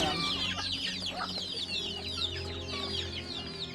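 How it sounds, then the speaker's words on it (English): About fifty baby and half-grown chickens kept in tubs cluck and chirp continuously, with busy, overlapping high peeps over a steady low background hum. "Mom's got about 50 head of baby chickens and half-grown chickens in the tubs."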